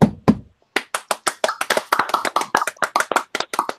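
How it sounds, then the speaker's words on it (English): A round-of-applause sound effect triggered from a button during an online music roundtable: a short burst of crisp, close claps that starts sparse and quickly thickens into steady clapping. "We need Jay's round of applause button"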